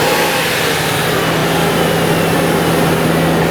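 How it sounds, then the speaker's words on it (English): A car engine roars steadily and loudly under a snapped throttle, a dense sustained drone with a low hum, close and continuous without talk. "So what we want to do is snap the throttle."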